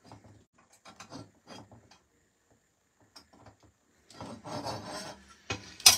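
Small clicking ratchet strokes tighten parts on a Genius GTC8E 2023 model car, coming in short separate bursts with quiet gaps between them, then a denser run of ratcheting near the end, close and fairly faint.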